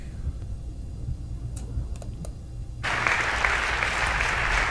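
Clapping bursts in abruptly after a quiet stretch with a few faint ticks, then continues as a steady, fairly loud wash of hand claps to the end.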